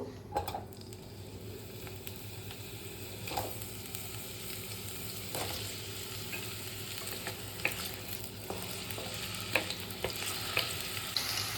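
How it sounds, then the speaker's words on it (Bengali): Potatoes frying in plenty of hot oil give a continuous bright sizzle, with scattered clicks and scrapes of stirring, close up and unaccompanied by speech. "তো এখানে তেলটা গরম হয়ে গেছে, এবার আমি আলুগুলোকে ভেজে নেব।"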